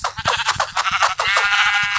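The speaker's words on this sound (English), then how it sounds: "okay, I'm gonna kill sheep just because." Sheep in the video game Minecraft bleat in a quick run of short, loud, close calls, one after another, with no talking over them.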